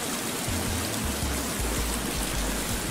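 Water rushes and flows continuously in the survival video game The Forest, a steady, fairly loud broadband wash with a low rumble underneath and no voices.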